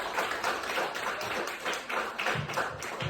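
A studio audience at a live pitch-roasting show breaks into brief, dense applause, a quick flurry of claps lasting a few seconds at moderate volume.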